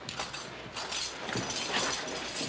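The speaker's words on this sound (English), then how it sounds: "Fitch, get the key and open the door" A key turns in a door lock in a Western drama: a dense run of metallic ratcheting clicks and clinks, close and fairly loud, lasting a couple of seconds with no talk.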